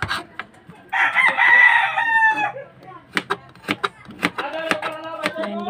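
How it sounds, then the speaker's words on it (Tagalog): A rooster crows loudly and close by near the start, followed by chickens clucking and scattered kitchen knocks while someone cooks. "super ingay ng manok"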